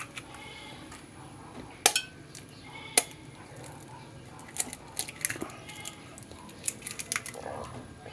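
Two eggs go into a bowl for lumpia wrapper batter: two sharp clinks of shell against the bowl about a second apart, followed by lighter taps and scraping in a quiet kitchen.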